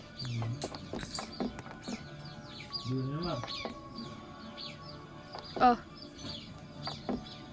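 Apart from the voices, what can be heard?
chicks cheeping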